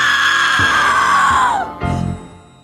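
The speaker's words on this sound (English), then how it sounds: "there's like a woman screaming in horror" Cartoon woman's high, sustained scream of horror from an Animaniacs episode, loud and sliding downward in pitch before a short low groan-like tail.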